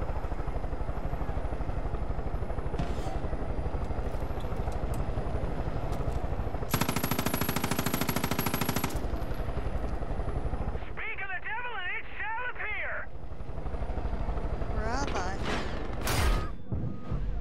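Rapid gunfire in the Far Cry 5 video game, with bursts of automatic fire amid a helicopter's steady rotor drone and chaotic combat noise, heard under players talking.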